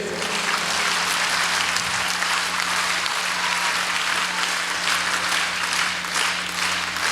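Roomful of teachers at a training session clapping in a different style, a continuous dense patter of many hands that holds steady for several seconds without speech.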